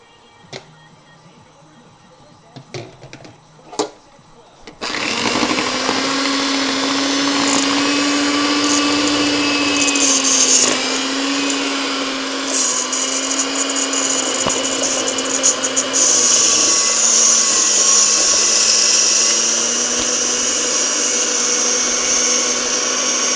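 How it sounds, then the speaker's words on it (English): An electric mixer switches on after a few light knocks and whirs steadily at high speed, beating eggs and sugar, loud and close with small shifts in tone. "I'm going to incorporate my 2 cups of sugar and mix them together with a mixer"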